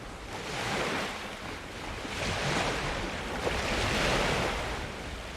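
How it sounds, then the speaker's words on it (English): Ocean waves crashing in the video game Bora, a continuous wash of surf swelling and receding in slow surges, fairly close with a breathy, wind-like texture and no voices. "we get dynamic, positionally accurate waves"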